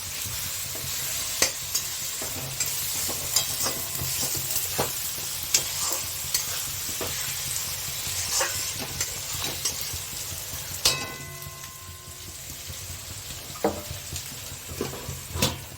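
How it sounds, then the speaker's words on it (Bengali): Chopped tomatoes with a little salt fry in a pan, a continuous loud sizzle broken by repeated scraping stirs and occasional clacks of a spoon against metal, no voices. "টমেটো কুচিয়ে রেখেছিলাম, দিয়ে দিলাম।"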